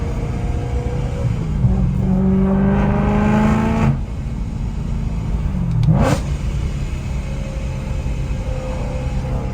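A car engine revs up and drops off twice, each release ending in a sharp whooshing blow-off hiss, loud and close.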